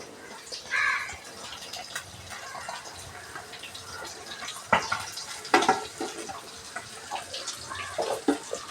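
Fish pieces go one by one into a pot of boiling curry, making soft wet plops and splashes over continuous bubbling simmer.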